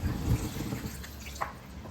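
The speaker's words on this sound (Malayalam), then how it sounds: "ഈ മിക്സിയുടെ ജാറിലുള്ള ഈ അരപ്പെല്ലാം കഴുകിയെടുത്ത്" Water swirls and splashes as ground spice paste is rinsed from a mixer grinder jar and poured into a pot of onion and long bean theeyal curry, a brief, close, wet sloshing with a small drip-like splash near the end.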